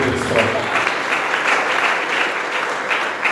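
Steady applause from a church congregation at a Cité de Refuge testimony gathering, dense and continuous clapping lasting the whole moment, fairly loud and close with no clear speech over it.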